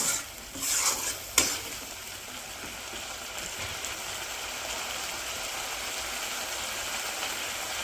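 Frying in a pan with powdered spices added, a couple of clanks and scrapes early on, then a loud, even sizzle that keeps going steadily.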